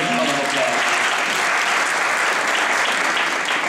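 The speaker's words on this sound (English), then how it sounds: "Let's give her a big round of applause." Loud, steady applause from a sizable crowd at an awards ceremony after the national anthem, continuous clapping filling the whole stretch with no pause.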